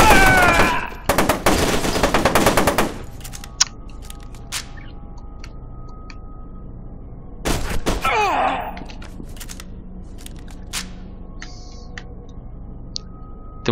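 Gunfire in the F.E.A.R. 2 video game: a dense burst of rapid shots up front, then another short loud burst a few seconds later, with quieter clicks and ambient hum between.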